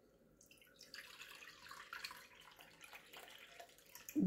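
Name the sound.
pouring cold water into a pot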